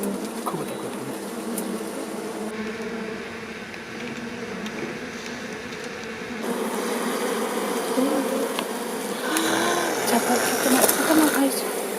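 A swarm of tens of thousands of honeybees hums steadily at a wild hive built inside a centuries-old tree on Jirisan, a dense, close buzzing that swells louder partway through with faint voices underneath.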